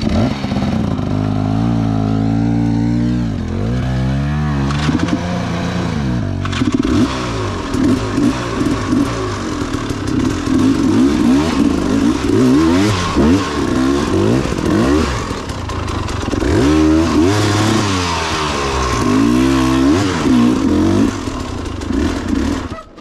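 An enduro motorcycle engine works hard on the throttle during a race loop, loud and close, revving up and down repeatedly with rising and falling pitch sweeps and some rattling clatter, no talk.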